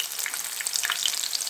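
Evening snacks fry in hot oil over a medium flame, giving a continuous bright sizzle and crackle, close and steady throughout, with no talking.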